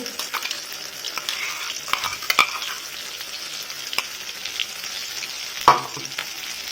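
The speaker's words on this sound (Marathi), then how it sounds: "हा मसाला छान तेल सुटेपर्यंत भाजून घ्यायचा आहे" Masala paste for a green peas curry fries in oil with a steady soft sizzle, while a spoon scrapes and stirs the pan and gives occasional clinks.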